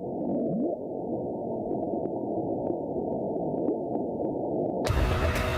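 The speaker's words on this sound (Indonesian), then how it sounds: "Ilmuwan memberi nama The Bloop untuk suara misterius tersebut" The Bloop, a mysterious loud underwater ocean recording, comes through as a continuous muffled low rumble with faint clicks, then a sudden jump into harsh broadband noise near the end.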